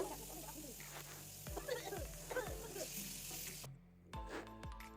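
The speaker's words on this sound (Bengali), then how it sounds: "আলুটাকে খুব ভালো করে নুন এবং হলুদ দিয়ে ভেজে নেব" Potatoes fry in a pan with salt and turmeric, a soft sizzle broken by several sharp clinks and scrapes of a utensil, then a brief quieter stretch before more taps.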